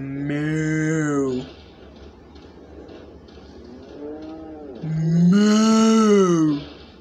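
Cow mooing in Resident Evil 4 on the PS3: two long, loud, drawn-out moos, each over a second, with a softer low lowing between them.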